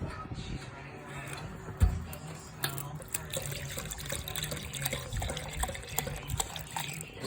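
Liquid poured into a container to fill about 24 ounces, a soft steady trickling and splashing heard close by at low level, with faint voice in the background.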